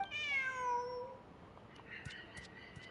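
A cat meowing in the video game Genshin Impact, one clear drawn-out meow that falls in pitch, followed by faint clicks and soft ambient game sounds.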